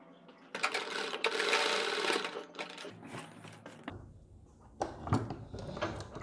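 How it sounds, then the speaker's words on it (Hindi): A sewing machine stitches a fabric neck strip in a fast, close mechanical whir that lasts a couple of seconds. Shorter stop-start stitching bursts and soft handling clicks follow. "सेम इसी तरीके से आपको पट्टी को स्टिच कर देना है इस साइड पर भी"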